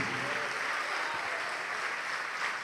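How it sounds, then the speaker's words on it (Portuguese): A congregation applauds at an evangelical church service during a sermon, with dense, steady clapping that holds evenly throughout without a break. "vamos aplaudir mais"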